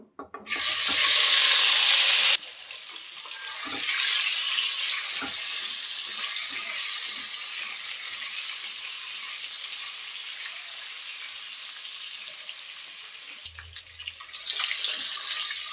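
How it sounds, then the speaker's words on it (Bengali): Halved boiled eggs dropped into hot oil, a sudden loud burst of spitting sizzle that eases into a long steady hiss, a few faint utensil taps, then a second surge near the end; nobody speaks. "এখন ডিমগুলো দিয়ে ভেজে নেব"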